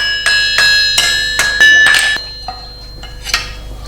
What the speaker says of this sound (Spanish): Golpeando uno con el martillo pequeño y otro con el mallo, el hierro del barrón se va estirando.